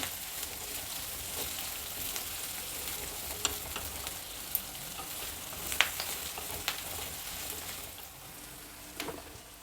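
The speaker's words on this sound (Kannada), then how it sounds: "ಚೆನ್ನಾಗಿ ಫ್ರೈ ಮಾಡ್ಕೊಳ್ಬೇಕು ಹೈ ಫ್ಲೇಮಲ್ಲೇ ಮಾಡ್ತಾಯಿದ್ದೀನಿ" Ingredients for mango chitranna fry in a pan on high flame, a steady close sizzle with occasional sharp pops and scrapes of stirring throughout.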